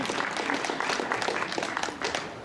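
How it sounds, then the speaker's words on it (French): An audience at a gaming convention applauds a game studio being welcomed on stage, a dense, steady patter of clapping at moderate volume filling the short stretch. "Vous pouvez les applaudir"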